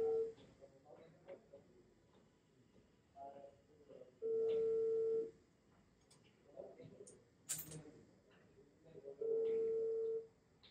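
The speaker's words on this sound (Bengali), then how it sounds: "ফোন দিচ্ছে।" A telephone call rings out with a ringback tone: three long, steady electronic beeps spaced several seconds apart, fairly faint, with quiet talk and room noise between them.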